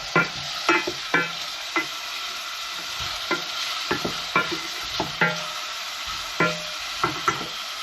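Onion, potato and carrot are stirred in a pan while they fry, with repeated scraping strokes of a utensil against the pan over a soft, steady sizzle.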